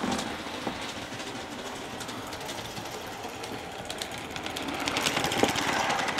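Aster gauge 1 live steam locomotive running on a garden railway, giving a steady fast chuffing and hissing rattle at close range that builds slightly louder toward the end, with no voices.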